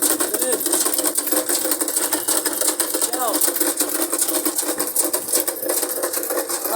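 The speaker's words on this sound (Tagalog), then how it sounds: "nagtatahi ng pantalon" Sewing machine stitching trousers at a shoe and bag repair stall in Imus Public Market, a steady fast mechanical whir running the whole time amid busy market noise and people talking nearby.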